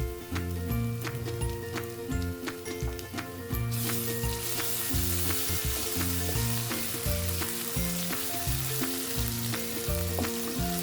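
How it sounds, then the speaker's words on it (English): Chopped onion fries in oil and desi ghee in a pan, giving a loud, steady sizzle broken by regular clinks and scrapes from stirring, with the hiss swelling brighter partway through and no voices. "Add chopped onion and fry until light golden."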